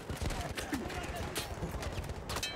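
Rapid repeated gunfire from a firefight in the video game Battlefield 1, a steady stream of sharp shots at moderate distance.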